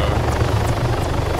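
A helicopter in the video game Arma 3 Altis Life roars steadily at close range, rotor thump and engine drone filling the short stretch without letup during a chase.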